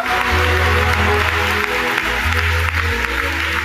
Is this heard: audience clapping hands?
yes